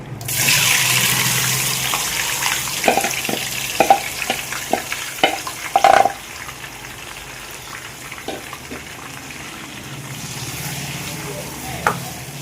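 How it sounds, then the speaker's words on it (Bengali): Chicken fries in a pan with whole spices including a cinnamon piece, a steady loud sizzle with repeated clacks of a spoon stirring, and faint talk in the background. "এবার আমি চিকেনটাকে খুব ভালো করে ভেজে নেব"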